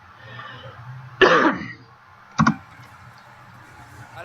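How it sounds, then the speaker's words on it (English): A single throat-clearing cough bursts out close to the microphone, followed about a second later by a shorter second cough, against a quiet low hum. "I'm gonna cough again."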